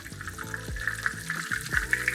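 Chicken sizzles and crackles steadily in a hot pan, with soft scraping and pops rising over the constant frying hiss.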